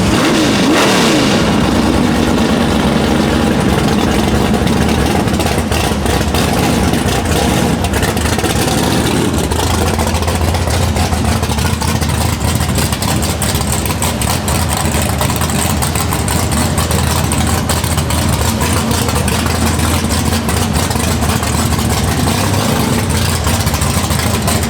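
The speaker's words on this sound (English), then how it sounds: "Can we go do burnouts?" A Chevrolet Camaro COPO does a burnout, its engine revving hard and roaring continuously at close range for the whole stretch, loud and steady with rising and falling pitch.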